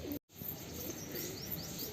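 Pigeons call from a rooftop, soft chirps and coos repeating faintly over steady outdoor background noise, with a brief dropout early on.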